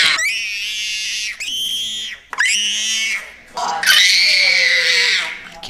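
A baby screaming in loud, piercing, high-pitched bursts, several long wails separated by brief gaps, up close and dominating with no other sound.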